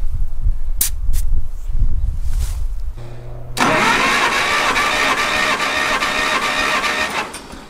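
A four-cylinder engine on a 1959 Case 300B tractor that was left outside gives a few rough cranking bursts, then catches and runs on at a steady, loud idle that fades slightly at the end.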